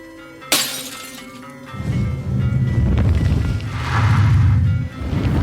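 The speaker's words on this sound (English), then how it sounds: "smashing her oil lamp at the priestess's feet" An oil lamp shatters on a stone floor with a sharp, loud glass crash, followed by a rushing, roaring wash of noise like flames catching.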